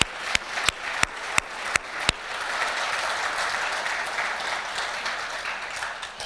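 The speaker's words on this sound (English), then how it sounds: "All right, one more round of applause." A round of applause from an awards dinner audience, steady and moderately loud, with a series of sharp regular knocks or taps at the start cutting through the clapping.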